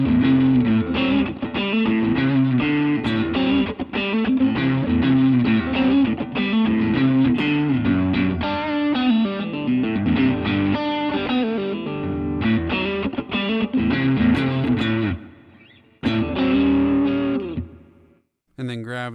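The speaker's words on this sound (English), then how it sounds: "It's going to be more of like that tube screamer distortion." Electric guitar run through a modeled tube screamer overdrive on an amp modeler, playing a bluesy John Mayer-style line; a dense, continuous driven tone fills the passage, dropping out briefly near the end before a final burst.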